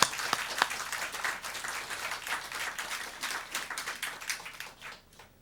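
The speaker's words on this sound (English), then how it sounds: "we'd like a round of applause For all those people who deserve thank you." A round of applause from the audience at a poetry reading, dense clapping that begins sharply, holds steady, then thins and fades out near the end.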